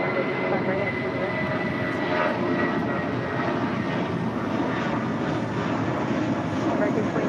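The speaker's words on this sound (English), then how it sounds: "That's United Airlines 797 departing to Los Cabos on an A320." A United Airlines A320 jet departs a runway at LAX, its engines roaring loud and steady throughout without let-up, with a faint voice speaking underneath.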